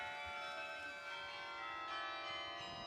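Carillon bells at Grace Cathedral ringing, a sustained wash of overlapping bell tones with long ringing overtones, steady and fairly distant, no talk.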